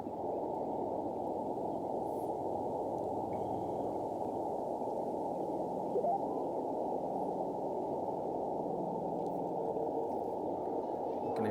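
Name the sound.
radio band noise with faint signal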